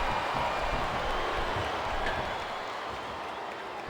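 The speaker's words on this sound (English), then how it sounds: "Sounds like this crowd's got something on their minds" Arena crowd noise in a WWE SmackDown vs. Raw 2007 wrestling video game match with Mark Henry, Viscera and Kane, a steady broad roar of cheering that holds at an even level throughout.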